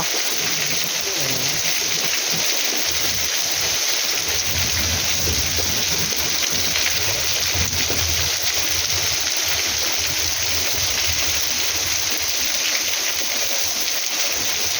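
Steady rain falls at night in a Thai rural setting as a continuous broadband hiss, with low rumbling beneath that fits distant thunder and a few faint bird or voice sounds.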